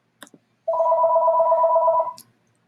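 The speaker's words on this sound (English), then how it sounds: "I can't answer that phone." A telephone rings in a classroom with a steady two-tone electronic trill lasting about a second and a half, loud and near, with a couple of short clicks before and after and no talk over it.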